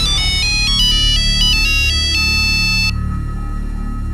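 A phone rings with a bright electronic melody of repeated high tones that plays for about three seconds, then cuts off, leaving a low background hum.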